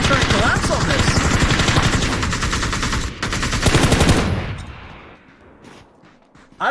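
Automatic gunfire from a vehicle in the video game Ring of Elysium, rapid dense bursts of shots for about four seconds, then fading to near quiet before a final sharp hit.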